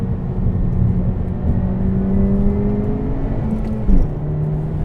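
A 2017 Honda Civic Hatchback Sport with the 1.5-litre turbo engine and six-speed manual drones steadily from inside the cabin, with a low rumble and a brief rise near the end as it is driven hard on throttle.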